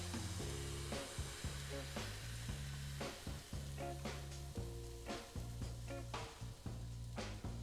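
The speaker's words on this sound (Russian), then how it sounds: "Выливаем тесто на сковородку" Pumpkin pancake batter sizzles and fries in a hot pan, a steady close crackle and hiss with repeated clinks and scrapes of a utensil against the pan throughout.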